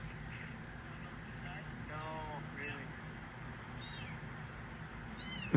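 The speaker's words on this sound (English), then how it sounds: "There were 3 kittens there. They're very little." Very young kittens give several thin, high meows at an outdoor spot in Sofia, Bulgaria, faint against steady background noise, with a sharp knock at the very end.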